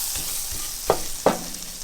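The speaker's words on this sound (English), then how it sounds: "You want to allow your flour to cook in the butter for about 20 seconds" Flour cooks in melted butter for a Mexican mac and cheese roux, a soft steady sizzle with a few sharp stirring scrapes against the pan.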